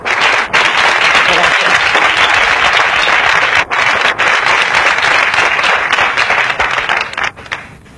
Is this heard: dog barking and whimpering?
no